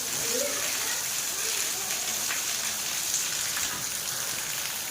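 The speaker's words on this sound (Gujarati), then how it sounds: "આજે વરસાદ ધોધમાર ચાલુ છે" Heavy monsoon rain with thunder and lightning pours steadily and loudly, a dense hiss of drops drumming on surfaces, with faint voices beneath it.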